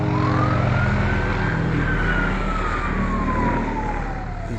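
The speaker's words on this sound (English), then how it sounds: "He's got his siren on." A low-flying helicopter's siren wails in a slow rising then falling sweep over a loud, steady engine rumble, fairly close, with no speech.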